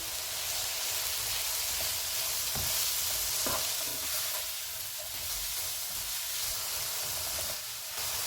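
Fish fried rice ingredients sizzle steadily in a hot pan while a utensil scrapes and stirs through them with a few sharp clicks, with no voices.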